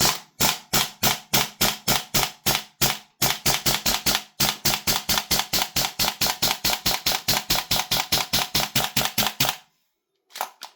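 Salvo Precision BRN-180 Deluxe gas blowback airsoft rifle with an MWS magazine firing a long rapid string of sharp, evenly spaced shots, each with a metallic bolt clack, close and loud, then stopping abruptly.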